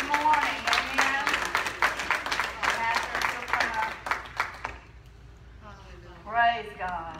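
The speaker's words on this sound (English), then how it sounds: "Let's give God a hand clap of praise this morning." A church congregation claps in praise during a Sunday morning worship service, a sustained round of hand claps for about five seconds under voices, after which a single speaker carries on alone.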